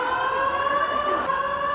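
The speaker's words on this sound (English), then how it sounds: "Got sirens." A steady, sustained siren tone wails continuously at moderate distance, holding a fairly even pitch throughout, during a building evacuation at an auto show.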